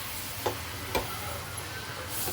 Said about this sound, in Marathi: आता हे मीडियम गॅसवर आपण चांगलं परतून घेऊया 3 ते 4 मिनिटांसाठी